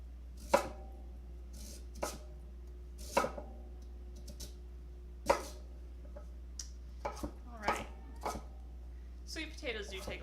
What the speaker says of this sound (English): let's finish chopping this guy.